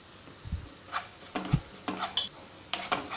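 Coriander powder and fennel seeds fry in oil for tomato rice while a spoon stirs the pan, giving soft sizzling under a series of distinct scraping and clinking stirs, close and fairly quiet.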